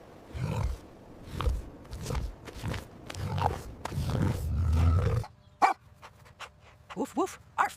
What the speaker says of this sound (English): Woof woof. Arf arf.